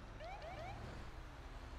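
Brief manual police siren chirps from a patrol car in GTA V, a few short rising whoops in quick succession, fairly faint over a steady low engine rumble, with no talk.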